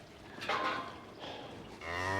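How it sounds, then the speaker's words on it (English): A cow, one with a crooked horn, moos in a field near her young calf, giving a low drawn-out call at moderate distance that rises again near the end. "I think it's the cow with the crooked horn behind."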